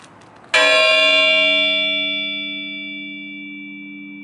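A single loud metallic strike rings out, then a long sustained shimmering tone that slowly fades, close and clear with no talking.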